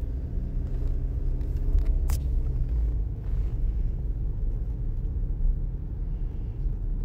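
A car's engine pulls away after crossing a speed hump during a driving lesson, a steady low rumble with no talking.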